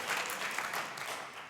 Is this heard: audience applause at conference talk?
yes